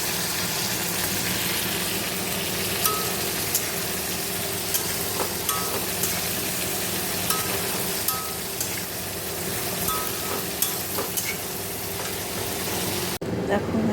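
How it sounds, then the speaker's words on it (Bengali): Pointed gourd (potol) pieces frying in oil in a home kitchen pan, a steady soft sizzle running throughout with small clinks and stirring noises, fairly close. "এখানে পটল ভাজা হচ্ছে"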